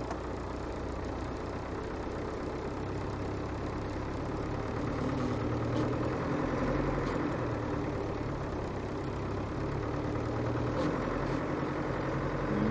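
Land Rover Defender 110 300Tdi diesel engine pulling slowly up a steep snowy hill in low gear, a steady low drone that holds constant throughout with no talk.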